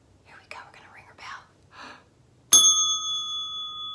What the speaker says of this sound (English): it's time to ring Fairy Fran's bell